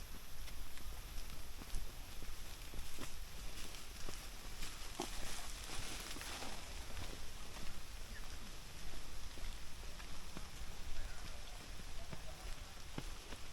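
Rain patters steadily on leaves and surfaces at a small forest waterfall and stream, a soft, even wash of drops with scattered louder taps, faint and continuous throughout.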